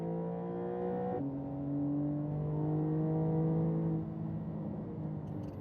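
A race car engine revs hard at full throttle on track, a steady rising drone that drops in pitch with a gear change and then climbs again, fairly faint and heard from inside the car.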